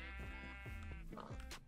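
Sheep in the video game Minecraft bleat several times in a row, close and loud, with wavering drawn-out calls followed by shorter ones.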